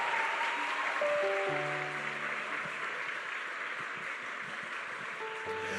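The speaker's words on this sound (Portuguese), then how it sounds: "Vamos aplaudir Ele de verdade." Sustained applause from a church congregation, a dense wash of clapping that continues steadily throughout, with a few faint tonal notes underneath.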